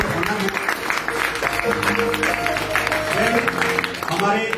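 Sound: audience applause

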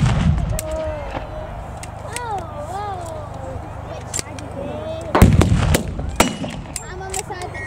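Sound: wartime re-enactment artillery fire

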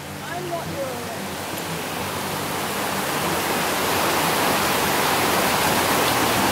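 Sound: creek water flowing at a crossing

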